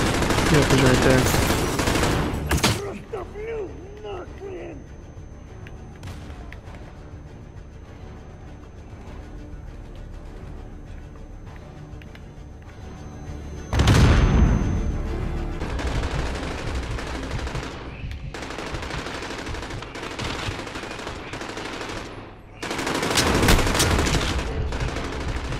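Enemy gunfire in the video game Call of Duty Modern Warfare, loud bursts of automatic shots at the start, the middle and near the end, separated by quieter game sounds.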